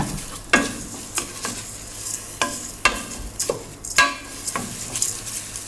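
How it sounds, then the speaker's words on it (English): Rice frying in a pan with wine poured in, a steady sizzle under repeated sharp scraping stirs and spoon knocks against the pan, close and fairly loud, with no talk. "I'm going to add in about 150 mils of wine"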